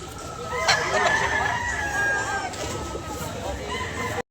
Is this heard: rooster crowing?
yes